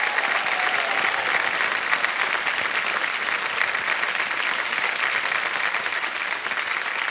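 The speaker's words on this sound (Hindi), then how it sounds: "तालियां बजती रहे इनके लिए।" Steady, dense applause from a studio audience on the KBC (Kaun Banega Crorepati) TV quiz show fills the whole stretch at an even, loud level, with no voice over it.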